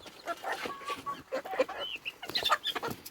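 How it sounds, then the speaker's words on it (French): Hens cluck and chatter close by while being fed salad, a busy run of short overlapping clucks and squawks, with no talk. "je vais la donner à manger en direct aux poules"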